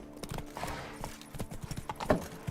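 Horse galloping in the video game The Witcher 3, a quick irregular patter of hoofbeats, close and moderately loud, with no talking.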